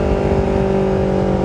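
A Benelli TNT250 motorcycle engine runs loud and close in a brief, steady burst with a dense buzzing tone and no pause, no speech over it.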